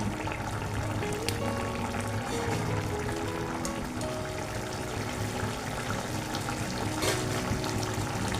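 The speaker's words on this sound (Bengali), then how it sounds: "আমি দিয়ে দিলাম একটু গুড়ের জল" Jaggery water pours in a steady unbroken stream into a cooking pan holding a moringa and poppy-seed dish with ground coconut and green chillies, a close, continuous watery rush with no talking.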